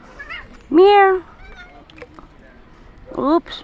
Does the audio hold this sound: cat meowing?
yes